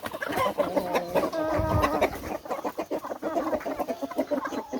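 Several chickens cluck and chatter close by in quick, irregular bursts while eating chard and cabbage, busy and overlapping.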